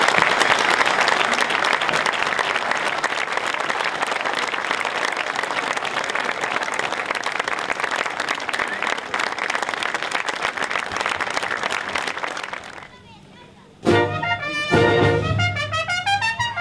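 Loud, dense applause from a crowd at a music band convention in Rubiós, As Neves, greeting a visiting community wind band, sustained for about thirteen seconds before fading, then a brief pause and the band's music starting.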